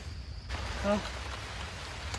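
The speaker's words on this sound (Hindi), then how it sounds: "तो गाइस बारिश शुरू हो गया है।" Rain begins falling at a forest campsite, a soft steady patter on surfaces that starts abruptly and keeps going, with a brief voice-like tone near the start.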